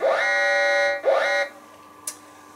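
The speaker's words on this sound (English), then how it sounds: "the moment the patient is tripped, or for instance falls out of his bed, automatically an alarm is triggered" A patient bed alarm in a HANA electronic medical record system sounds two long, loud electronic buzzing tones back to back, followed after a pause by one short faint chirp.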